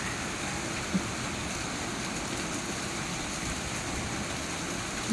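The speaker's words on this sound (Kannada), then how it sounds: "ತುಂಬ ಮಳೆ ಬರ್ತಿದೆ ಹಾಗಾಗಿ ಮಳೆ ಸೌಂಡ್ ಕೂಡ ಕೇಳಿಸ್ತಿದೆ ನಿಮಗೆ ಸಖತ್ ಮಳೆ ಬರ್ತಿದೆ" Steady, dense rain hiss fills the whole stretch without letup, a constant broadband wash with no voices.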